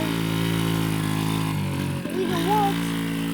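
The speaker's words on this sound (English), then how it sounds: "Moped time." A moped engine runs steadily and close by, a constant droning hum with a brief dip partway through, while a voice talks over it.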